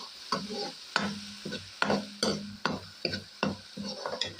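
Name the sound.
garlic ginger paste frying in pan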